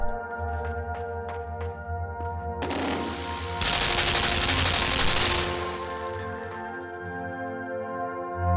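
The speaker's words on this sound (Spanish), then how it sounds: "Es una ametralladora activada por láser." A laser-activated machine gun opens fire in the video game Limbo: a dense, loud burst of rapid shots lasting a few seconds over a low droning backdrop, then fading out.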